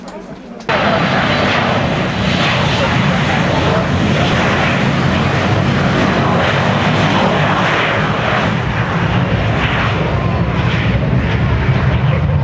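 A steady, loud engine roar drones on after a brief quieter start, broad and continuous like a small propeller plane running close by.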